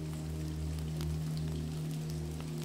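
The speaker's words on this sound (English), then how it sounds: "The patter of raindrops on the thatched roof" Rain patters softly and evenly on a thatched roof, a continuous fine crackle over a low steady hum, with no voices.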